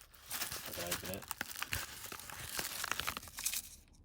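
A parcel that came through the post is opened by hand, with crinkling and tearing of packaging close by in several short bursts, and someone talks over it.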